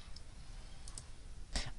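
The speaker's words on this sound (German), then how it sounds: "Ich weiß, man hört das Klicken im Hintergrund" Faint clicks sound in the background during a Terraria gaming session, a few soft ticks scattered over low room hum, with one sharper click near the end.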